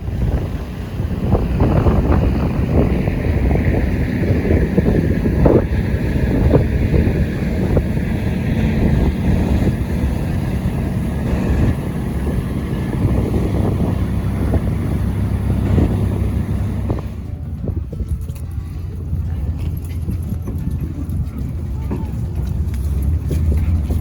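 Ferry crossing to the city with a steady onboard engine drone and heavy wind buffeting the microphone, loud and continuous, easing slightly toward the end.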